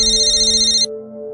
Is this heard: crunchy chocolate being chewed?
no